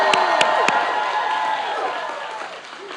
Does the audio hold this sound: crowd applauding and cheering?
yes